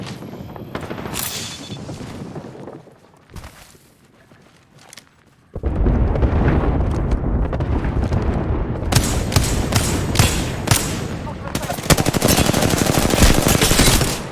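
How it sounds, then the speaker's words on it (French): Gunfire and airstrike explosions in the Apex Legends video game, with bursts of rapid automatic fire, a brief lull, then loud, dense blasts and shooting that continue to the end. "Attention à la frappe aérienne."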